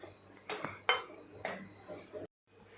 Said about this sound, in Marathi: सतत हलवत हलवत आपल्याला भाजून घ्यायचं आहे।